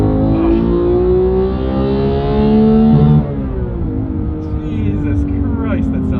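A 2019 Porsche 911 GT3 RS engine revs high and sustained, then drops in pitch and settles into a lower rumble, loud and close.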